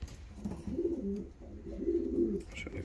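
Domestic fancy pigeons, young healthy birds with full yellow wings, coo in two low rolling phrases close by, a soft murmuring burble with no talking over it.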